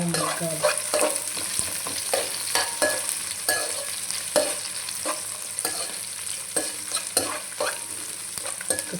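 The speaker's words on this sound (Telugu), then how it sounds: "ఇట్లా వేగినాయి కదా" Chicken pieces fry steadily in a pan with a loud, continuous sizzle, broken by the scrape and clatter of frequent stirring, close up and with no talking.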